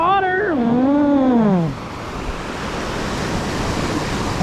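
Ocean surf rolls onto a white-sand beach with salt foam at Gulf Shores, Alabama. A brief rising-and-falling vocal tone opens the clip, then a steady, close, hissing wash of waves continues alone.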